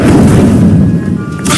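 The Incendio fire spell is cast in the video game Hogwarts Legacy, producing a loud, rumbling burst of flame with a low roar that fades, followed by a sharper flare near the end.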